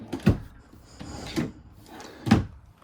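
Drawers in a 2026 Tracer 275BH travel trailer slide open and shut three times, each a short scraping thud separated by quiet pauses.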